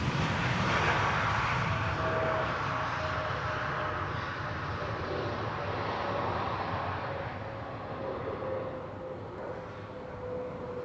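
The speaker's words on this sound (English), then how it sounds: "Helvetic Airways in the meantime having landed here. E2 Embraer 195 arrival from Zurich." An Embraer 195 E2 airliner landing on the Polderbaan runway at Amsterdam Schiphol in gusty weather, a steady distant roar of jet engines that slowly fades as the aircraft rolls past.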